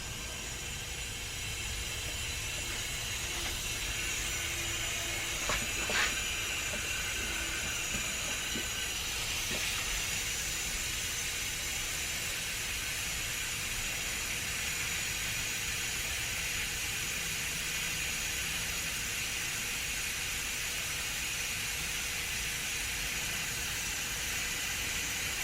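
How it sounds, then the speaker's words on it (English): Compressed air from an air compressor hisses through an LSX fuel injector during cleaning, a steady loud rush lasting throughout with a few brief clicks and knocks early on. "Let's see if I can't turn the compressor up a little."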